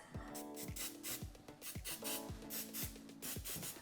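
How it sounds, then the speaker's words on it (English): Short bursts of hissing oil spray from a can repeat in a steady rhythm, several quick light squirts into a muffin tin close by, with no talking. "just a little light spray in each muffin tin"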